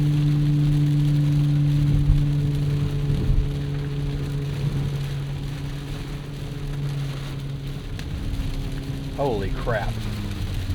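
The turbo hybrid engine of a 2026 Jeep Cherokee drones steadily inside the cabin, its tone rising as it revs toward about 6,000 RPM, with a voice reacting briefly near the end.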